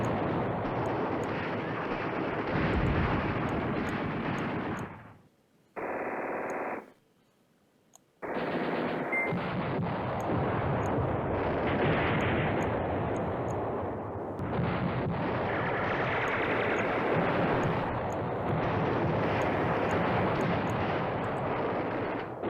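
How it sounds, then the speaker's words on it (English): Bombing in the Command Ops 2 wargame, with continuous dense rumbling explosions and gunfire heard in a long barrage, broken once by a short gap near the start. "You just keep bombing over here."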